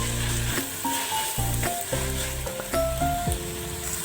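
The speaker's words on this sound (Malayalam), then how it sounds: "നന്നായി ഒന്ന് മിക്സ് ചെയ്തെടുക്കാം" Spices are stirred into spicy chicken curry sizzling in a pan, a steady loud frying hiss with repeated scraping and clinking strokes of the spoon, no talking.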